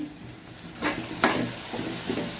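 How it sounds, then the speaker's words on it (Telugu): Pieces of ridge gourd stirred in hot oil in a pan: a soft, continuous sizzle with a couple of sharper scraping stirs, close by and with no talking. "బీరకాయ ముక్కలు ఫ్రైలో మీద ఆయిల్లో మంచిగా కలుపుకోవాలి"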